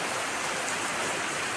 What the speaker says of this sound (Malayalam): മഴയാണ് ഗൈസ്, എങ്ങനെ ഇപ്പം നമ്മൾ പോവും?